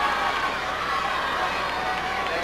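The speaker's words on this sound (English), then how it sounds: "to the great, huge vocal disappointment of the crowd" A large stadium crowd at a 1993 Gateshead 100m race lets out a sustained loud groan and murmur of disappointment after a false start, a dense continuous wash of voices.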